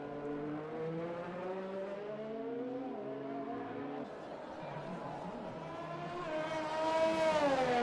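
Formula 1 cars roll onto a wet Suzuka track in a racing game, their engines droning steadily at low revs. The pitch rises and sweeps upward near the end as a car accelerates, loud and continuous, with no clear talk.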